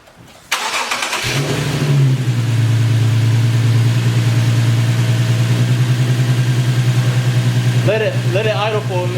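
An Infiniti Q60 fitted with a Takeda Stage 2 cold air intake starts up and settles into a loud, steady idle with a deep, even rumble close by, with brief voices near the end.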